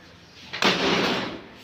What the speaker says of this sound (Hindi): हाँ दरवाजा बंद करने